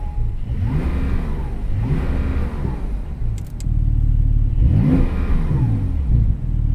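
A 2021 Porsche 911 Turbo S engine with sport exhaust revs up and down repeatedly, its exhaust growling loudly at close range, with a deep rumble between the revs.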